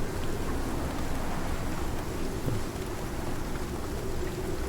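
Rain falls in the survival video game Icarus as a steady, soft hiss of broadband patter, quiet and continuous without any talking.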